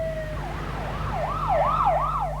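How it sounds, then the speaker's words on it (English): An emergency siren wails down Cahuenga, its rising and falling tone sweeping in a steady cycle that grows slightly louder as it approaches, with a low traffic rumble beneath. "the sound of a siren heading down Cahuenga"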